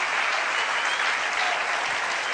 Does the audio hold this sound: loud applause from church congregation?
yes